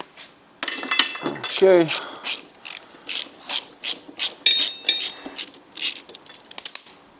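A 5mm Allen bolt being worked loose from the brake of a Honda CB 750 motorcycle: a scraping metal squeal, then a string of close, regular ratchet-like clicks and taps, with a brief spoken word.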